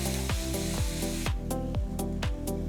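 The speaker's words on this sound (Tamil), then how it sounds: "இஞ்சி பூண்டு விழுதையும் வெங்காயத்தையும் நல்லா சேர்த்து வதக்கி" Ginger garlic paste and onions sauté in a pan for palak paneer, a steady hiss of frying sizzle running throughout beneath a rhythmic series of clinking, scraping stirs from a utensil.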